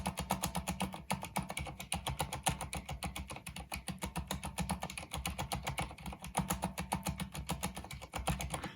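Fingers type steadily on a keyboard fitted with Cherry MX Silent switches and O-rings, producing a close, rapid, even stream of soft muted key clicks with a dull thud and no voices.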